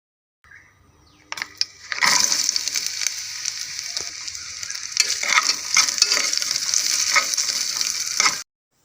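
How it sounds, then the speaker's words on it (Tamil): Finely chopped coconut pieces fry and sizzle in hot ghee for a Kerala kalathappam, with steady crackling and intermittent stirring scrapes, loud and close after a quiet start, no talking. "நெய்யில் வந்து தேங்காய் நம்ம வறுத்து விட்டுக்கலாம்."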